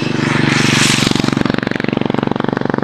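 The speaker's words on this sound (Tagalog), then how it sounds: "May paparating na motor." Motorcycle passing close by on a mountain road, a loud buzzing engine whose pulsing exhaust beat grows steadily more rhythmic as it nears.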